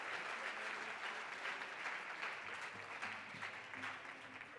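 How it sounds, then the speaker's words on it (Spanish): Steady applause from an audience at a gastronomy event, a sustained wash of many hands clapping at moderate distance with faint voices underneath. "un fuerte aplauso para Briegel."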